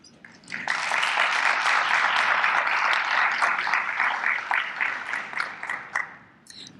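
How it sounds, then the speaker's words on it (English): An audience applauds for the Revere High School Concert Band after its performance, a loud, sustained clapping that swells quickly, holds steady and then tapers off. "Let's give him another round of applause."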